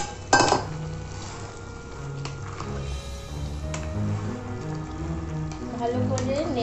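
A spoon clinks and scrapes against a pan as fried chicken is stirred into the sauce for chili chicken, the metallic taps scattered under ongoing talk.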